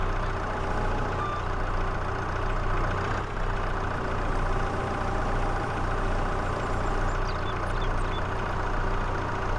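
A tractor engine in Farming Simulator 22 idles as a steady, even low drone throughout, with no clear revving or talking, only a faint brief shift partway through.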